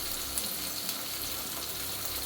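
Vegetables with salt fry in a pan for egg chicken pasta, giving a continuous close hiss of sizzling with no pauses or voices.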